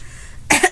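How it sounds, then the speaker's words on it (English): A single close, loud cough from a person with chest and nasal congestion, arriving after a short quiet pause and followed by a smaller second burst. "I'm going to only leave a few coughs in here."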